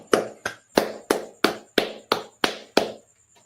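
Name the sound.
clapping hands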